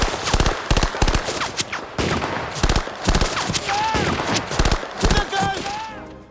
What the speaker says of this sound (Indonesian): namun tiba-tiba datang tembakan dari arah belakang